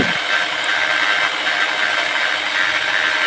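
Power drill spinning to lap a motorcycle engine valve, a steady high-pitched grinding whir that runs loud and unbroken throughout with no speech.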